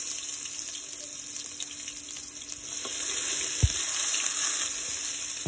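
Onion paste sizzles in hot oil in a kadai while chicken is being cooked: a continuous, fairly loud frying hiss with a few sharp crackles near the end.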